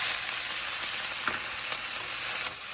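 Soy sauce sizzling in a hot pan of zucchini and green, yellow and orange pepper stir fry, a steady close frying hiss with a few soft clicks and one sharper tap near the end.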